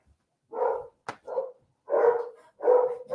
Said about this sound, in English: my dogs are all pissed off about something.